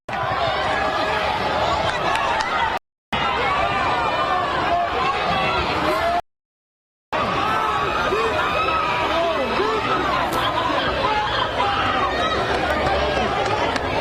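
Protest crowd over Breonna Taylor on the steps of Metro Hall, a dense roaring babble of many voices shouting and chanting, loud and continuous, broken by two short gaps of silence.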